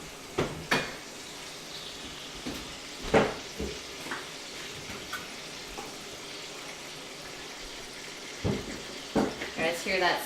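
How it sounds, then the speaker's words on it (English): Brick-grilled chicken sizzles in a pan with a quiet, steady hiss, broken by a few sharp clatters and scrapes. "hear that sizzle?"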